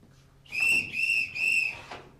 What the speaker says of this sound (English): A whistle? Bit theatrical, isn't it?